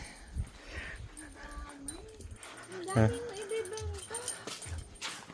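A dog whimpers and yips in high, wavering whines, mixed with people talking nearby and background clatter.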